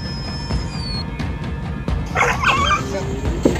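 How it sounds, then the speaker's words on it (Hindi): A dog barks and yelps in the background of a dramatic scene, giving a few short, sharp calls over a muffled, noisy bed. "चुप करा वो कमबख्त कुत्ते को।"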